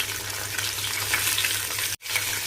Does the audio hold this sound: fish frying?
yes